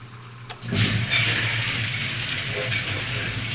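A dishwasher starts a wash load after a tub seal replacement: a brief click, then a steady rushing of water filling and spraying with a low motor hum, close and continuous.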